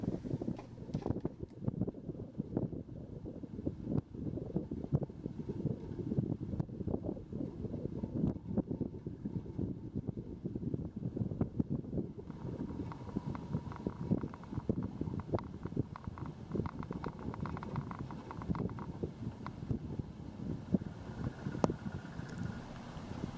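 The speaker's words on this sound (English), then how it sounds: "Or just the sound of the wind." Gusty wind rumbles and buffets steadily throughout aboard a Ranger 23 sailboat on the Columbia River, a low rushing noise with occasional louder gusts, and no voices.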